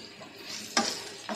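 Raw plantain poriyal fries in hot oil in a pan, with a soft continuous sizzle and a couple of sharp scraping stirs of a utensil against the pan.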